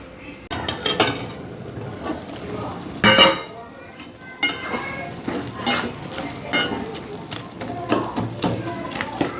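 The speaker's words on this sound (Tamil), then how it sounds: "முதல்ல அது வதங்கட்டும்" Tomato masala sautéing in a pan for a dried-fish curry: close sizzling under repeated scraping and tapping of a spoon against the pan, with a voice heard at times.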